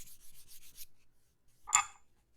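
A strip of 1000 grit sandpaper is rubbed along a leather edge in a few quick, soft, rhythmic strokes. A pause follows, then one slightly louder scrape, all faint and close with no talking.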